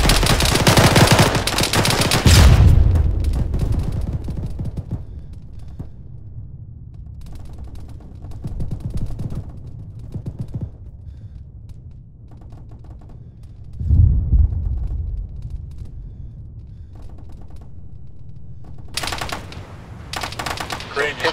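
Gunfire in the military shooter Arma 3 during a beachfront assault: a loud burst of shots at the start, scattered quieter bursts and mechanical clatter through the middle, and another heavy volley near the end, with faint voices underneath.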